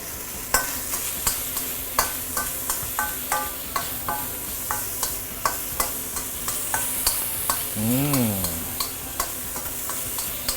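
The white portion of spring onion sizzles in a pot for a one-pot seafood dish, a steady frying hiss under regular clacking of a utensil stirring against the pot, with a brief rising tone partway through.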